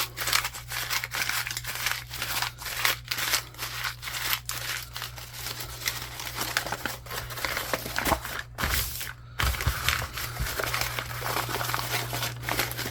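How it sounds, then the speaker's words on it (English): Repeated crinkling and crumpling of paper-like material by hand to make faux suede, close and rhythmic, with brief pauses, over a faint steady hum. "Crumple, crumple, crumple."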